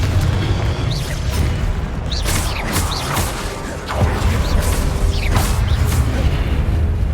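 Repeated Confringo blasting-spell explosions from a Harry Potter video game on PC, booming bursts with crackling magical whooshes layered over a loud, dense rumble that barely lets up.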